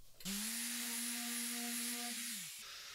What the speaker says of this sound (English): Then gave it a quick sanding